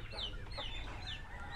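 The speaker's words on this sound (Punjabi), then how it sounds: "ਜੋੜਾ ਹੈਗਾ ਕੁੱਕੜਾਂ ਦਾ, ਕੁੱਕੜ ਕੁੱਕੜੀ।" On a farm in Hoshiarpur, a rooster and hen cluck close by in quick, repeated, scratchy calls over faint low background rumble, with no one talking.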